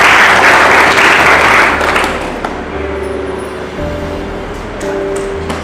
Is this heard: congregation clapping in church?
yes